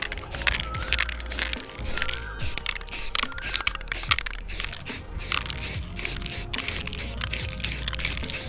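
Aerosol spray paint hisses in repeated bursts onto a motorcycle part, close and loud, with brief gaps, rattles and clicks between passes.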